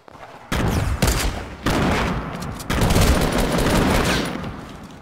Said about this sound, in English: some people are shotgunning and some are shooting control